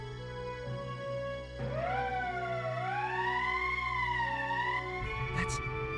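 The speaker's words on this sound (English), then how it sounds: "That's the emergency siren." An emergency siren in the Valkyria Chronicles video game wails with a rising and falling tone over a steady low hum, sustained for several seconds before a brief sharp burst near the end.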